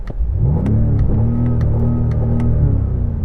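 A BMW M5 engine revving, heard from inside the car as a steady, loud, low mid-range drone with smooth rising and falling pitch, plus a few faint clicks over it.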